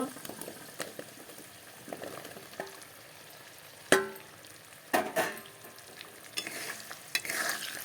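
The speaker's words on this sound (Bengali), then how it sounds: "কেটে রাখা পেঁয়াজগুলো এখন ঢেলে দেব" Chopped onions go into a hot pan and fry with a soft sizzle, while a spoon scrapes and clatters against the pan in sharp, scattered knocks close by.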